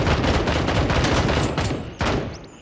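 Rifle gunfire in the video game Gray Zone Warfare, a loud close burst of rapid shots that stops and ends with a final sharp crack.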